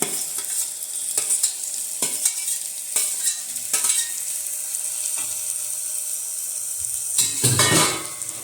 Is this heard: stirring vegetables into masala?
yes